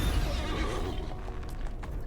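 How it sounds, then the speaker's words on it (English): A horse neighs in a video game, a single whinny over steady low game noise, fairly close and without speech. "This horse is so slow."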